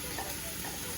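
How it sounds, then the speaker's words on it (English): A steady, dense hiss of vegetables sizzling in a hot pan, constant and close with no pauses. "Sizzle."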